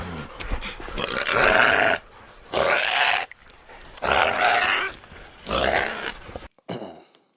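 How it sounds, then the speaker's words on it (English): Hunting dogs growl and snarl in long, loud bursts with short pauses between them, close by, holding an animal, ending in a brief scuffle. "Good dogs, hold him, dogs."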